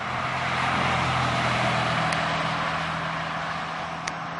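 A Porsche 996 Carrera with Fabspeed Maxflo mufflers cruises at normal speed, its exhaust a steady, low, mild drone that stays even and fairly loud throughout.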